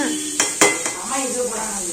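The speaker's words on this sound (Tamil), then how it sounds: "ஃபைனலாக தேங்காய் போட்டு ஒரு கிளறி எடுத்தால் சூப்பரான கடலை ரெடி" A spoon scraping and stirring cooked chickpeas with grated coconut in a pan, two sharp metallic clinks followed by a soft sizzle and shuffling, close by.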